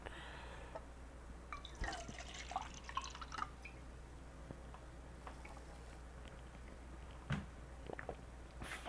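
Water poured for drinking, a light trickling drip of liquid filling a cup, faint and close, with a few soft clinks and small knocks over a steady low hum.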